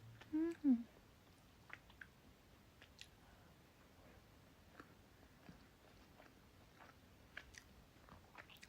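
Someone chews food fast up close, with faint, scattered crunchy bites and soft wet clicks after a brief voice at the start, all quiet against a still room.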